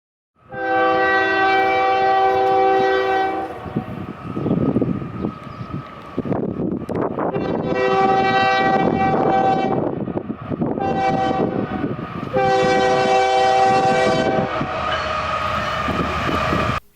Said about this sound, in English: This is how a train is supposed to honk at a crossing. 2 long blasts, 1 short, and another long blast until the train comes to the crossing.